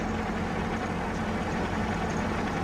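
A tractor engine in Farming Simulator 17 drones in a steady, unbroken low rumble, loud and constant throughout.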